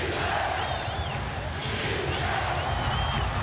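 A packed basketball arena crowd roars in a constant, dense din at a Lakers versus Trail Blazers Game 7, with faint whistles cutting through.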